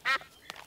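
Cartoon ducks at a duck pond in a Peppa Pig episode give two quick quacks, the first louder and buzzier, the second shorter and softer, close and with no talk.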